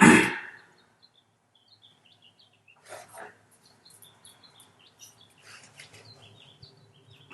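Birds chirp outside a window: faint, scattered tweets and short calls at a distance, with quiet gaps between them, after a brief louder sound at the start.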